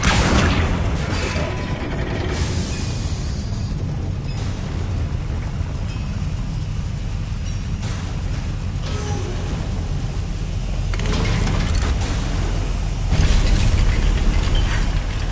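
Spell explosions from Bombarda and Confringo in the video game Hogwarts Legacy crash and boom again and again through a loud, busy fight, with blasts landing one after another and nobody talking.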